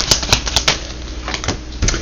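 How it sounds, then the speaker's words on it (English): Tarot cards being shuffled by hand, heard as a quick run of crisp, close papery flicks and snaps in short bursts, with no one talking. "I know y'all saw me shuffle these cards, right?"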